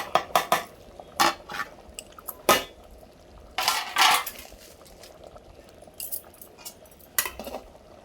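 A spoon stirs vegetable khichuri in a cooking pot, producing irregular metallic clanks and scrapes against the pot, some sharp and close, with soft bubbling and thick, wet movement between strikes.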